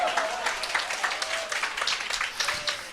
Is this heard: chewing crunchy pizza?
no